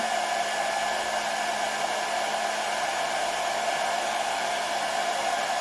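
A hair dryer turned up high blows with a steady, loud whooshing hum that stays constant from start to finish.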